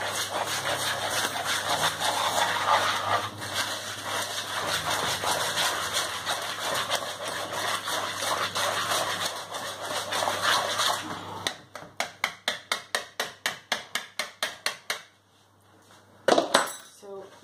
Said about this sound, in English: So we're going to mix up the wet and dry ingredients.